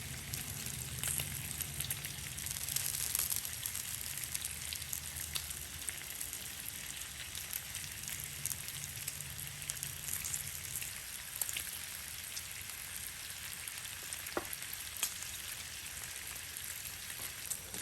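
Beef bacon sizzles on a Blackstone griddle with a steady, hissing crackle that runs throughout, with scattered louder pops and no talking.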